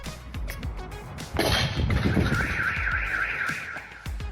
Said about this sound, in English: What could she have possibly hit to make such a loud alarm sound?